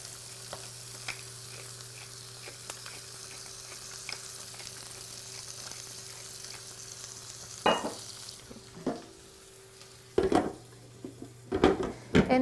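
Lamb knuckles browning in a hot pan give a steady soft sizzle, and a few sharp clanks of utensils against the pan come near the end.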